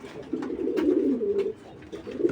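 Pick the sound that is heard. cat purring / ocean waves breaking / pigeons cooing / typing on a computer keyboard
pigeons cooing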